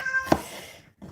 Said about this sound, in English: you guys hear my cat?